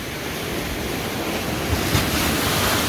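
Ocean surf rolls steadily onto a shoreline, a continuous broadband wash of breaking waves with wind noise buffeting the microphone and a couple of slightly louder surges near the end.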